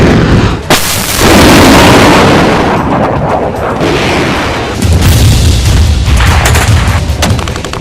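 Rocket attack explosions at the Zaporizhzhia nuclear power plant compound, heavy booming blasts and rumbling that persist loudly through the clip, with a further deep rumble near the end.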